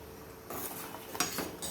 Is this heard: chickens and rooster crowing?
no